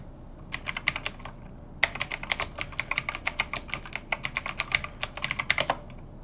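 Rapid bursts of keystrokes on a computer keyboard as a command is typed, steady clicking with a brief pause near the start and no talking.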